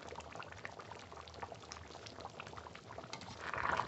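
Mutton curry gravy with potatoes simmering in a pot, a continuous close bubbling and gurgling that swells slightly near the end, with no talking.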